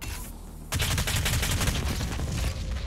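Heavy gunfire and explosions in the demon-slaying shooter DOOM Eternal: a quiet moment breaks into a loud, dense, continuous barrage of shots and blasts that lasts to the end.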